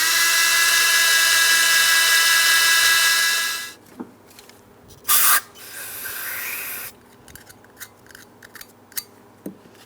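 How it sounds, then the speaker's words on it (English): A Chrysler Town & Country brake caliper bracket is scrubbed clean with a loud, harsh, continuous abrasive hiss for several seconds, then a short burst, a stretch of softer rubbing and scattered light scrapes and knocks. "Now that we've fully finished cleaning our bracket"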